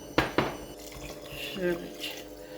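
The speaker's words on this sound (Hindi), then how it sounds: "और अब इसमें मैं ऐड कर दूँगी पानी। पानी मैंने गर्म ही लिया है" Hot water is poured into a pot of bottle gourd curry, two sharp knocks first, then a steady, close pouring and splashing with some light clatter of the pot.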